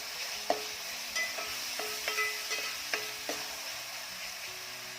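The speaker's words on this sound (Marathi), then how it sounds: "डाळ आधी तेलामध्ये चांगली परतून घ्यायची आहे" Soaked dal sautéing in oil in a pan, a soft continuous sizzle under repeated light stirring taps and scrapes, close and quiet, no talk.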